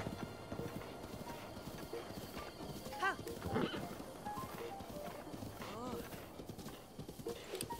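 Rhythmic clip-clop of horse hooves as a rider gallops across open terrain in the video game Zelda: Breath of the Wild, a steady hoofbeat pattern running under a player's talk.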